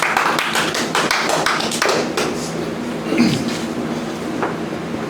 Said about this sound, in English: Let's bring him up with a rousing round of applause